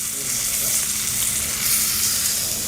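A beef roast sears in a hot pan, producing a loud, dense, unbroken sizzle close to the listener with no talking.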